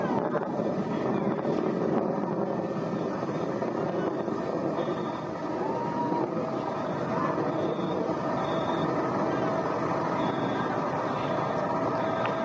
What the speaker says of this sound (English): Engine response looks good.